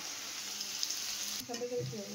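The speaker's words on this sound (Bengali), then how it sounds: "তো আলুটা আমার লাল করে ভাজা হয়ে গেছে" Potatoes frying in oil until reddish give a steady, close sizzle and crackle throughout, with a brief stir or clatter near the end.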